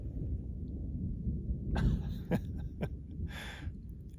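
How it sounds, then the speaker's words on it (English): Close thunder during a storm in the Desolation Wilderness near Dicks Pass rolls as a deep, continuous low rumble, broken by several sharp crackling bursts in the second half. "and now we're getting some really consistent, loud, close Both sides of us. thunder coming from both sides."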